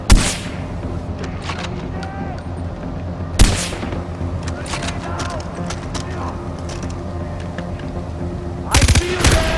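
Gunfire in the video game Far Cry 4: sharp shots open the clip, another loud burst lands mid-way and a rapid volley closes it, over a constant battle-noise bed.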